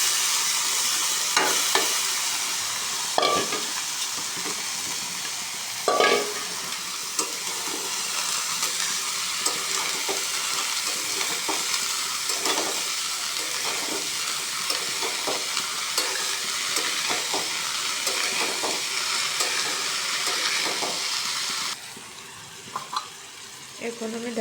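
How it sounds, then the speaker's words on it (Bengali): Fish curry with yard-long beans and potatoes sizzling in a pan while being stirred, with steady frying hiss and intermittent scraping strokes throughout, the sizzle dropping quieter near the end. "দিয়ে কিছুক্ষণ নেড়ে নেব। এবারটা দিয়ে দেব বরবটি আর আলু।"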